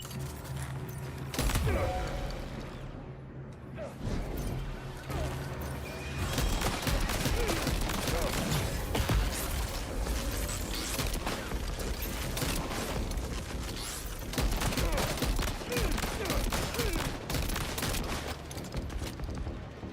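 Shotgun blasts and other weapon fire in the video game Death Stranding 2 come as a dense, loud run of repeated bangs across most of the stretch, with brief lulls. A voice speaks over it now and then.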